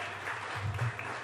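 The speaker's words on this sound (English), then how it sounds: "Y'all can clap up for that." Scattered applause from a comedy club audience, fairly quiet and brief, with a low murmur of voices under the clapping.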